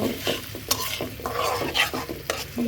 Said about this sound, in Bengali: চিংড়ি মাছ একসাথে পেঁয়াজ আর চিংড়ি মাছ একসাথে ভাজা ভাজা করে নেব